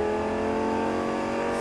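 A Lamborghini Gallardo accelerates hard on a racing circuit, its engine holding a loud, steady, dense roar for the whole short stretch with no pause or voices over it.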